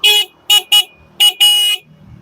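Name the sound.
motorcycle horn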